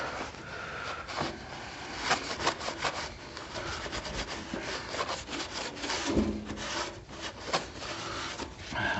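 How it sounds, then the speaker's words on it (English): A rag rubs and wipes excess oil off a Honda GC160 engine on a Cub Cadet tiller, with uneven scrubbing strokes close to the mic and no talking. "now we're going to wipe off all that excess oil"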